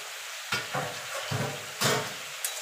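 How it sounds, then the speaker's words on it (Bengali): A mixed vegetable curry with eggplant added frying in a pan, stirred in several bursts of scraping and sizzling against a steady crackle. "বেগুনটা দিয়ে নাড়াচাড়া করে দেবো"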